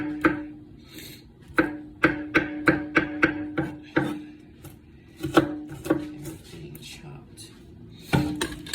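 A knife chops a garlic clove for chestnut squash soup on a cutting board, giving a close, irregular series of sharp taps in quick bursts separated by short pauses.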